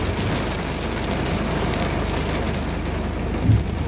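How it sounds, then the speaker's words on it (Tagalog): Heavy rain pours steadily, a dense continuous wash close at hand, during what may be a storm, with a brief louder thump near the end. "Kasi klasang ulan eh."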